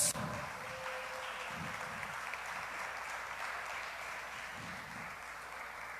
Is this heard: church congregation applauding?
yes